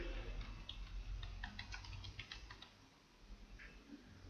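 Computer keyboard typing as a ticket comment is entered in a help-desk setup, a light, quick run of soft clicks heard close and fairly faint, with no talking.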